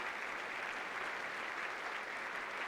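Soft, steady applause at a funeral and memorial service, an even wash of many light claps sustained throughout the short stretch, moderately distant and unaccompanied.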